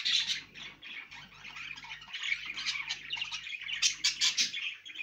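A breeding pair of birds calls near their nest, giving dense, overlapping chirps and squawks that continue steadily and fairly close, with a faint low hum underneath.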